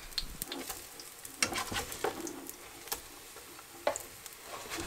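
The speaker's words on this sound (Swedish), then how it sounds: "steker lite pannkaka" Pancakes fry in a pan outdoors in the northern Dalarna wilderness, giving a steady close sizzle with scattered ticks and scrapes and no voices.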